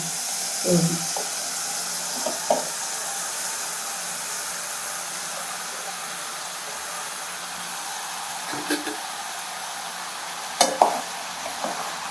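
Chopped bottle gourd hits a pan of hot oil and gets stirred, producing a continuous sizzling hiss with a few brief clattering scrapes of the spoon near the start, middle and end.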